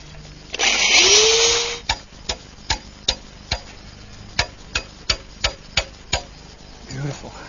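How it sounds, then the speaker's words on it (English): A wooden flagpole being drilled through near its base for a bolt, heard as a short burst of power drill whine that winds down, followed by a run of sharp, evenly spaced ticks and knocks, close and clear. "Now I'll drill a hole through the bottom for the lower bolt."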